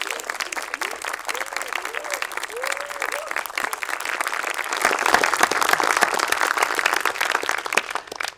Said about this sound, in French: je vous propose de l'accueillir en applaudissant